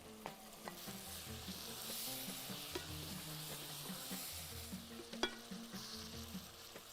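Tomatoes hit a hot pan of sautéed seasoning while preparing Muwawaash Rubyan, a shrimp dish, giving a steady close sizzle with scattered scraping stirs and a sharp clack near the end, no voices.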